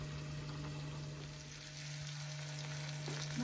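Sliced bitter gourd fries in a pan with a soft, steady sizzle and a faint low hum underneath, quiet and unbroken for a few seconds.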